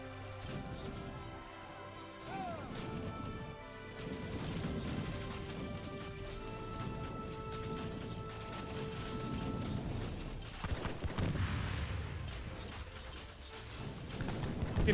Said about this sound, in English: Fölrobbannak, meg lerombolódnak.